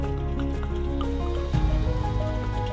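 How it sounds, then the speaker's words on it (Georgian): Water is poured into a liquid foliar fertilizer mix of Wuxal Aero K for drone spraying, making a steady close splashing and filling sound with a heavier gush partway through, and no voices. "შემდეგ ნაზავს დავამატოთ წყალი სასურველი რაოდენობა."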